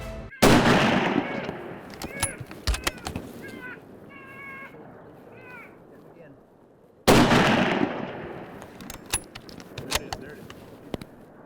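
Two loud, sharp rifle shots ring out during a black bear hunt in harsh Alaskan weather, several seconds apart. Each blast trails off into the open air, with crow-like cawing and small clicks heard in between.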